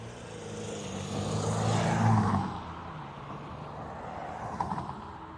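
A pair of Airbus A330s departing Dublin Airport, a distant engine roar swelling to a peak and then easing off, moderately quiet and heard alone without talk.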